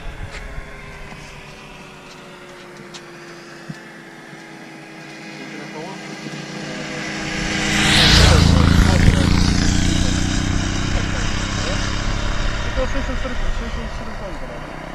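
A heavy 1000cc touring motorcycle roars past, starting far and quiet, then swelling to a loud close pass around the middle before fading gradually, with people talking nearby.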